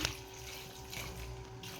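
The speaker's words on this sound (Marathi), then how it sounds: "याच्यात थोडं पाणी घालायचं" Water poured into a pressure cooker holding cauliflower and green peas for pav bhaji makes a faint, steady trickle and wash throughout, with no talking.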